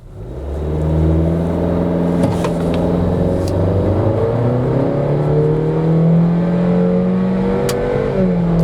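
Honda CR-V SUV accelerating hard from a standstill in an acceleration test, engine rising steadily in pitch through the gears, loud and continuous with no talk.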